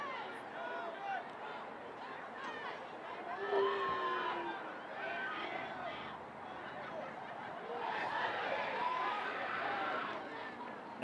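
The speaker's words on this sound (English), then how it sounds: "An ovation from the crowd." A crowd at a high school boys' varsity soccer game breaks into applause and cheering, a continuous murmur of clapping and voices that swells twice, with an announcer talking over it.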